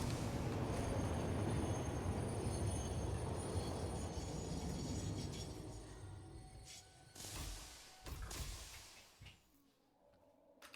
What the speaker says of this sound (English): Going to wait here for this train that's coming back